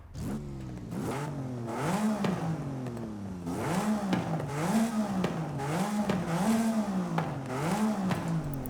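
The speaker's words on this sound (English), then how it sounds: "Oh my god, we can get it to rev even higher." A Porsche 911 in Forza Horizon 5 revs past 9000 rpm. The engine note climbs and falls in a steady series of repeated high-pitched rev sweeps, loud and close, with no talking.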